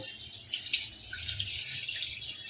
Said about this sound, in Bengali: বড় কাপের এক কাপ মতো জল দিচ্ছি